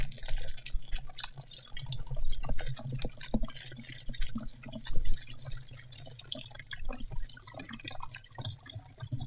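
Distilled water trickles slowly through a funnel into a container beside a computer, a steady run of soft drips and light liquid splashes, close and fairly quiet, with no one talking.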